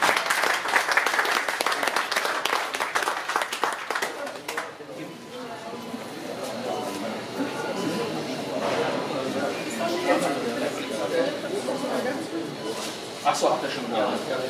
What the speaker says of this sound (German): Einen Applaus mal bitte.